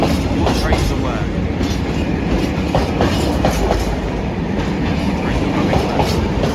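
Freightliner Class 66 freight train passing on the Great Western Main Line at Acton, a loud, steady rumble with rhythmic clickety-clack of wagon wheels over rail joints, close and continuous.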